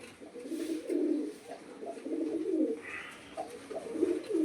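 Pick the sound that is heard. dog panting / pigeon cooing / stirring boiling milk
pigeon cooing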